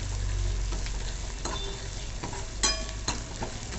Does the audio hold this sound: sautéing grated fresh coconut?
yes